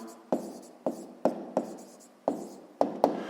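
Numbers are written by hand on paper, with short pen scratches and taps in an irregular rhythm of about nine strokes, close and fairly quiet, with no one talking.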